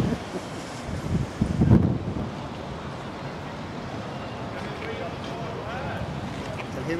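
Wind gusts across a harbour quay in Stockholm, a low blustery rumble buffeting the microphone, swelling briefly near the start and then settling into a steady outdoor wash.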